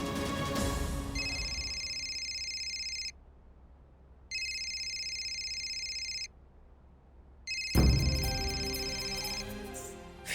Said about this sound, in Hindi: विजय भाई का फोन है